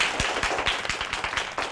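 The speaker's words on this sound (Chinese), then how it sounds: "大家鼓掌欢迎" Office colleagues clap in welcome for a new coworker, a small group's quick, close handclaps forming a brief, uneven ripple.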